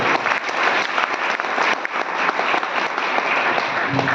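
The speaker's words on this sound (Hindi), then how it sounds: "एक बार ताली होना चाहिए सभी लोगों के लिए।" Dense, steady applause fills a seminar hall, many hands clapping together at a constant loud level from start to finish, with no speech over it.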